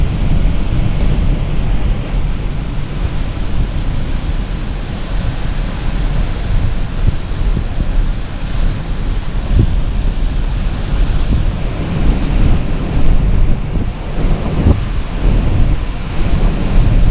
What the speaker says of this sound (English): It is super windy still